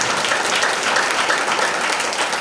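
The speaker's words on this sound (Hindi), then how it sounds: "जोरदार तालियों से स्वागत करें।" A crowd at a Hindu devotional satsang gathering gives loud, dense applause. Many hands clap continuously and evenly for a couple of seconds.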